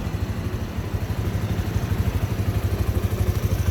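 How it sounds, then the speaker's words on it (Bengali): A used, roughly ten-year-old Bajaj Platina 100 motorcycle idling, its single-cylinder engine giving a steady fast low thumping putter, loud and close, with no voices. "এখনও গাড়ি চলমান আছে এবং ইঞ্জিনের সাউন্ড কিন্তু খুবই সুন্দর"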